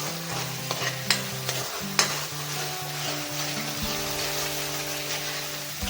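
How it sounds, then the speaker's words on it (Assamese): Ginger, garlic, chilli and onion paste sizzles steadily in hot oil for egg curry, broken by a few sharp scrapes and taps of a spoon stirring it around the pan; no one speaks. "এতিয়া মই এইখিনি ভাজিছোঁ"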